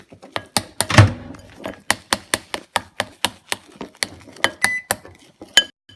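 A utensil stirs melted marshmallows in a bowl, making a quick series of sharp clinks and taps against the dish, close and fairly loud, with a heavier knock near the start.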